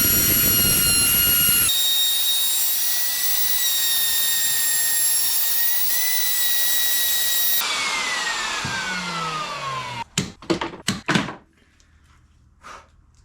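A power tool cuts a trim slot in a VW T4 campervan door panel, a loud sustained high whine that holds steady, then winds down in pitch, followed by a few sharp knocks and clatters before the sound drops away.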